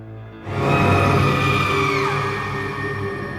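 A voice imitates a woman screaming loudly, one sustained high wailing shriek that starts abruptly and holds strong for about three seconds, close and alone.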